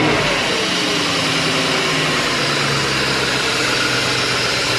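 A warmed-up BMW 728i or 740i E38 car engine runs steadily at idle, a loud, close, even hum with a faint rhythmic pulse throughout and no talking.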